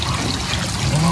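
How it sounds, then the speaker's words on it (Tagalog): Floodwater from a swollen river flowing over submerged steps and around bamboo near a hut, a steady close rush of trickling, pouring water with faint murmuring voices in the background. "lumalabas na rin po ang tubig dito"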